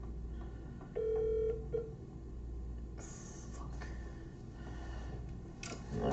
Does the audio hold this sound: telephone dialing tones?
yes